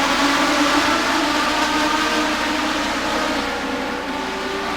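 Legends race cars accelerate on the Anderson Motor Speedway oval after a restart, a loud dense engine roar with several cars together, easing off slightly toward the end.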